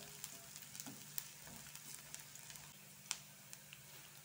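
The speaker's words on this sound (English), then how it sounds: "I'm just going to give this a stir." Onions and chili peppers frying in a pan for chicken tikka masala, a faint steady sizzle with soft, scattered ticks and light stirring taps.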